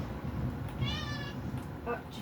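A pet cat lets out two short meows near the mic, the first a rising, drawn-out call and the second briefer. A game soundtrack and a low background rumble continue throughout, and someone is talking nearby.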